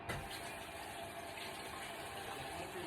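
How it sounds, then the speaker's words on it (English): Tap water runs steadily while an eggplant is washed in a kitchen sink, a continuous close rushing stream that holds at an even level throughout, with no voices over it. "I'm gonna go up here and wash this eggplant off right quick"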